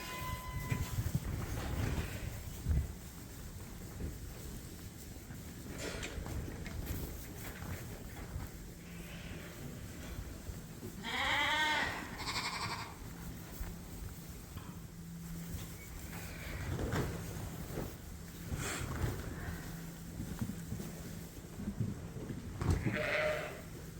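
Sheep and lambs bleat on a wintery farm, with scattered calls, a few close and loud, others farther off, over a quiet outdoor background.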